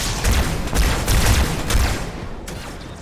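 Gunfire in the video game Halo 2, a dense run of loud shots and booming bursts in the first two seconds, then fading to a quieter rumble with one more sharp crack near the end.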